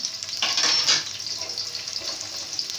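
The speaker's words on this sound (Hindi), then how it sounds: "साथ ही मैं ये सारे गरम मसाले जो बचाए थे आधे वो इसमें डाल दूंगी।" Whole garam masala spices go into a hot pot of oil while making beef pulao, setting off a loud, close sizzle that flares up and then settles into a steady crackle.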